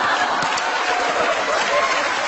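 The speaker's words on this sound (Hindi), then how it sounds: "इनके लिए भी जोरदार तालियां" An audience applauds steadily and fairly loudly, a dense continuous patter of clapping with no break.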